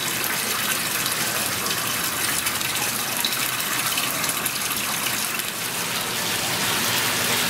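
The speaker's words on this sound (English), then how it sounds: "The water flow coming out of the barrier is slowing down considerably." Water gushes steadily out of an oil containment barrier during a pump-through test, a loud, continuous rushing wash with no pauses and no voices.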